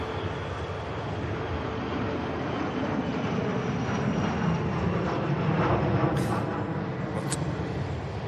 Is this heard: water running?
no